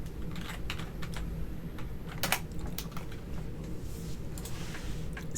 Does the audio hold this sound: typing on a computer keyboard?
yes